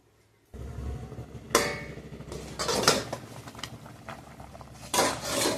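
A metal lid clatters onto a pot of chicken curry in a home kitchen, with several sharp clinks and scrapes of cookware in bursts after a brief silent start, close and fairly quiet.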